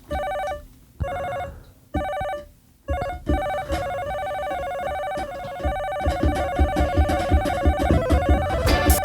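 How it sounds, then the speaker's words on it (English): Telephone ringing over and over, loud, close electronic rings that start in separated bursts and then run into a continuous, pulsing ring, with no talk. "I'm going to actually have to disconnect the phone because it just keeps Ringing."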